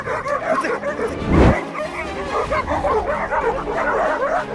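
A pack of dogs barks and yelps aggressively at a leopard, overlapping barks coming loud and near, with one sharp burst standing out before the chorus of yips and whines carries on.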